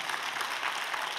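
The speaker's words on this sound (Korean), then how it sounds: "박수 치셔도 됩니다" A church congregation applauding, a short burst of steady, moderately loud clapping from many hands filling the room.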